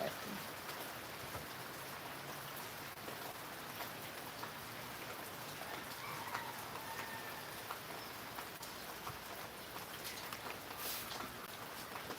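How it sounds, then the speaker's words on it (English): Rain falls steadily outside as a soft, continuous patter across the whole stretch, with a few faint bird sounds and no talking. "you can hear the rain, see the rain for a little bit"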